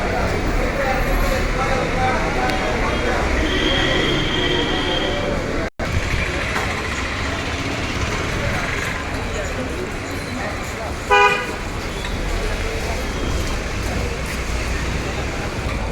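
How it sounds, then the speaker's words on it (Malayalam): Steady traffic din fills the Perumbavoor private bus stand, a constant roar of engines and crowd noise with a short horn toot near the end, while people talk underneath. "Perumbavoor private bus സ്റ്റാൻഡാണ്."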